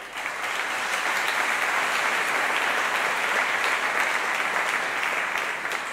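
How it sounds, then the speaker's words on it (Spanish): Audience at an awards gala giving a strong round of applause, a dense even roar of many hands clapping for several seconds before tapering at the end. "Acomiadem a Daniel Zurriaga amb un fort aplaudiment."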